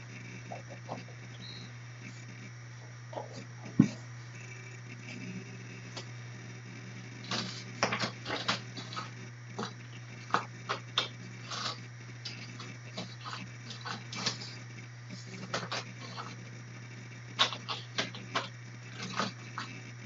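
An inkjet-style home printer feeding and printing a regular sheet of paper, with a steady low hum under bursts of clicking and whirring carriage passes that grow busier partway through.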